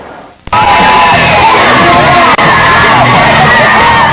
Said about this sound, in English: There's the Wisconsin gang cheering on their favorite drivers.